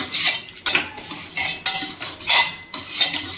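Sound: stirring cooked dal with a spoon

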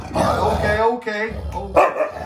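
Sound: husky dog growling and barking, protecting a puppy

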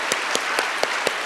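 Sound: congregation applause of thanks in church

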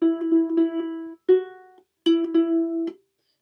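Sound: ukulele playing a song, with body tap

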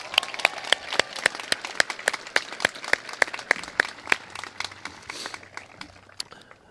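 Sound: audience applause at high school graduation

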